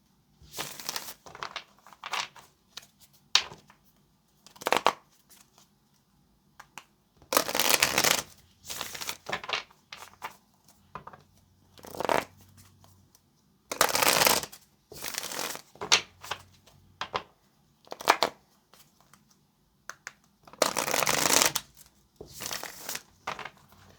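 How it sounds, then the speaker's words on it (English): Tarot cards shuffled by hand in repeated bursts of riffling and crisp crinkly rustling, separated by short quiet gaps, close and fairly clear with no talk. "let's get one more shuffle"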